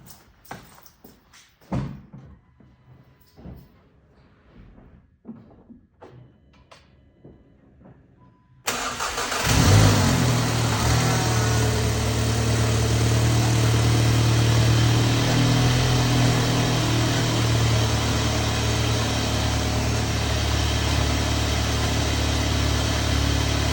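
A VW MK7 GTI's 2.0T EA888 four-cylinder cranks with scattered clicks and whirs, then catches and fires, settling into a loud, steady idle that holds to the end.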